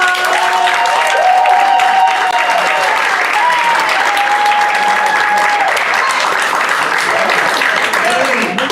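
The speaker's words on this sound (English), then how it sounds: "Start clapping up now for John!" Loud, sustained audience applause at a live stand-up comedy class show fills the space continuously, with cheers and whistles rising through the dense clapping.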